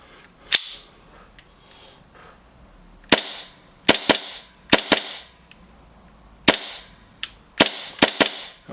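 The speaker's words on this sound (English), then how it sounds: "Let me dry fire for you guys in front of you." A gas-powered airsoft pistol built on a TM Gold Match is dry fired about ten times at irregular intervals, each a sharp, close, loud crack with a brief hissing tail, and quiet between shots.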